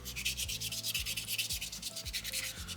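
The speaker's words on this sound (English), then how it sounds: "you can still do a little bit of shaping with sandpaper number 2" Sandpaper rubbing back and forth over a soapstone owl carving, an even, gritty scraping in rhythmic strokes, close up with no voices.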